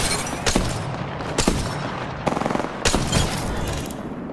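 Bursts of automatic gunfire from a battle royale shooter, Apex Legends, crackle in several loud volleys with brief gaps between them, alone without voices.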